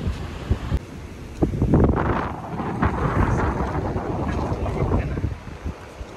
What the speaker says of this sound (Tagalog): Lumalakas na ang hangin.